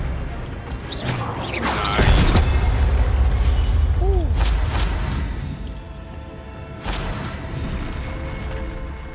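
Spell effects burst and explode in the video game Hogwarts Legacy: a loud blast with a swooshing sweep near the start, a smaller zap and whoosh midway, and another sharp burst later, all over a steady game-sound bed.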